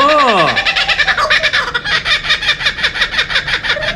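Kookaburra calling: a rising and falling opening cry, then a long run of rapid, rhythmic cackling notes that repeat steadily and loudly until the end.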